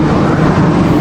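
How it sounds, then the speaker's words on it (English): A helicopter passes overhead, a loud continuous low rumble and whir filling the brief moment. "Sorry for the helicopter sound, but yeah, let's just let it pass by."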